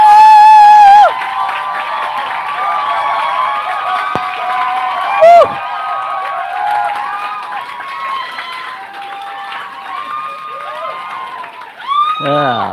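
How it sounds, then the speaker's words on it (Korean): Crowd cheering and whooping at a Korean seminar as a guest speaker is welcomed, a loud sustained roar with shouts over an announcer's amplified voice, a brief burst of clapping near the middle and a swell of cheers at the end. "함성 박수 부탁드릴게요."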